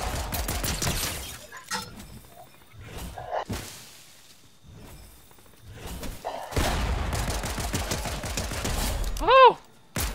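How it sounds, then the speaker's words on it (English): Fortnite gunfire arrives as several bursts of shots, some close and loud, others quieter. People talk excitedly between and over the shots. "Someone's shooting me!"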